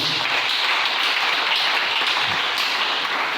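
A church congregation applauding, a dense steady wash of many hands clapping together throughout, fairly loud and continuous without pauses.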